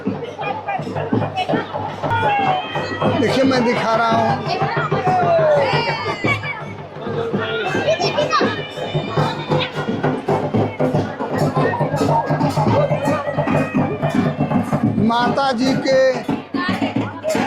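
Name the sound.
large surging crowd at temple festival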